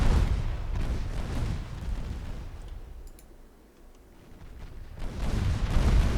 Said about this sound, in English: There we go, we're scoring some hits with the 7-inch guns.